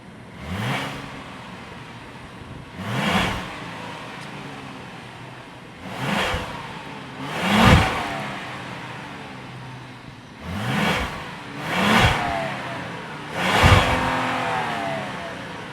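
A 2026 Hyundai Palisade's 3.5-liter V6 revs repeatedly in short, loud bursts, each rising and falling, with a steady idle rumble between them.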